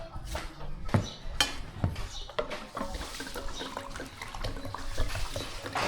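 Water splashing and trickling in uneven bursts, close and fairly quiet, with clinks and knocks on a hot day as someone pours water to drink.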